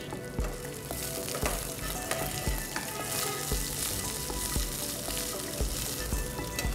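Green chillies and onion fry in a hot pan with a loud, continuous sizzle and crackle, broken by occasional soft clinks of stirring, with no talking.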